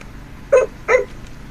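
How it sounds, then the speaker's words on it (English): A FurReal Friends toy puppy gives two short electronic startup barks, evenly spaced about half a second apart, close and clear over a quiet background. "those are her startup barks"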